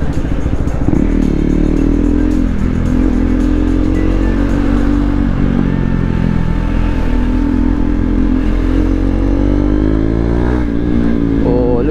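A KTM 390 Duke single-cylinder motorcycle revs high and holds strong engine pitch while riding, loud and close throughout with a few clattering surges and shifts in tone.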